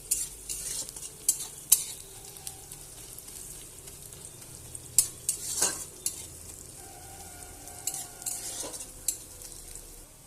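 Onions and panch phoron frying in a pan for a Bengali fish curry, with a soft steady sizzle under repeated scraping stirs and occasional sharp clinks of a spatula against the pan.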